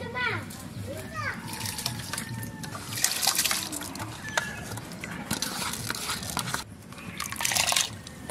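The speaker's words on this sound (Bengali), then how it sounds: "গোবিন্দভোগ চালটা দিয়ে দেবো।" Gobindobhog rice is tipped into hot water in a pot for village-style khichuri, making soft splashes and trickles. People, including children, talk over it.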